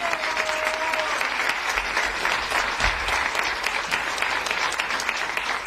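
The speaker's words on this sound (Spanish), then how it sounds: "denle un fuerte aplauso porque se lo merece" An audience at a book presentation gives the author warm, sustained applause, even and full throughout, with no speech over the clapping.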